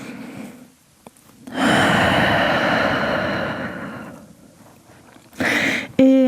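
A person breathes steadily while holding a hamstring stretch in a vinyasa yoga session: a long, close, airy exhale swells and fades, then a shorter breath follows, ending in a brief tonal sound.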